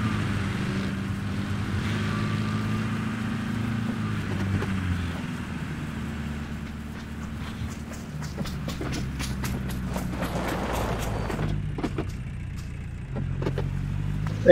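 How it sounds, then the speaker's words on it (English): Vehicle engine in the PUBG video game, a steady droning motor hum close by that shifts in pitch as it drives, with scattered clicks and rattles over it and no talking. "Vehicle."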